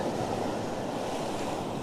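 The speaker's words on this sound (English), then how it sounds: "you probably just missed me getting drowned by waves then" Ocean waves at a rocky shore near 1770, Queensland, Australia, make a continuous broadband wash of surf at a steady, moderate level.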